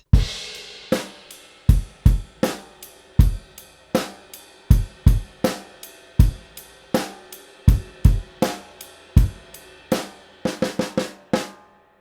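A drum kit plays a rock beat, with steady kick, snare and cymbal strikes over about twelve seconds and a quick burst of fills near the end, played alone without talk.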